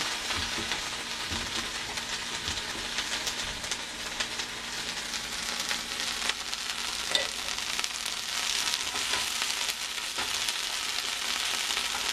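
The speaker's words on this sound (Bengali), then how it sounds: "এখন আমি ধনিয়া পাতাগুলোকে আস্তে আস্তে ফ্রাই প্যানটাতে দিয়ে দিব।" Coriander leaves are dry-fried without oil in a hot frying pan, producing a continuous soft crackling sizzle with faint stirring scrapes throughout, moderately quiet and close.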